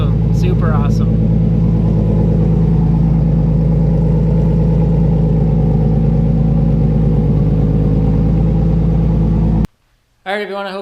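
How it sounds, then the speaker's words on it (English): Nissan Skyline RB25DET fitted with Kelford 272 cams, idling with a steady, loud, lumpy rumble for about nine seconds before cutting off abruptly, then a brief return of sound at the end. "I hope you enjoyed the sound of the new cams on the car"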